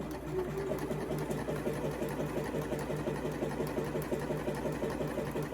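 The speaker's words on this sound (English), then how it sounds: "we're going to be doing a zigzag stitch, and go ahead and do that now" Sewing machine running a zigzag stitch on knit fabric, a steady close mechanical whir with fast rhythmic needle ticking that holds evenly throughout.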